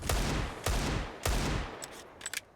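Desert Eagle pistol fire in Counter-Strike at a professional tournament match: three loud, evenly spaced heavy shots close together, followed by fainter distant pops and clicks.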